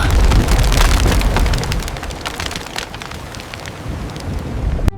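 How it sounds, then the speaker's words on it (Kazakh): A heavy roar of wind and rain, loudest at the start and easing slightly, steady and close with no voices. "Қара бұлттар жиналып дауыл шықты."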